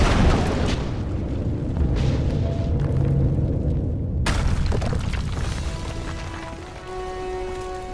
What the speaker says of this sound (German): Und dann kann ich das nämlich auch explodieren lassen